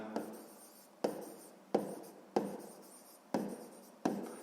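Handwriting during a sixth-grade maths exercise on a square's perimeter: six scratchy strokes, each with a sharp onset and a fading tail, come in a steady rhythm, close and quiet, with no talking.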